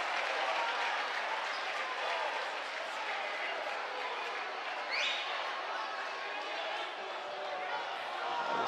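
Sold-out crowd at a boys' high school basketball section final, Orono versus Benilde St. Margaret's, roaring and clapping steadily throughout, a dense wall of cheering with brief whistles rising above it.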